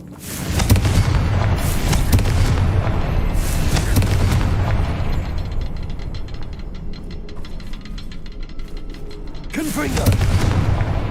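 Confringo explosion spells cast in the video game Hogwarts Legacy, with repeated booming blasts and a rumbling low-end barrage that dips mid-clip and surges again near the end, loud and close.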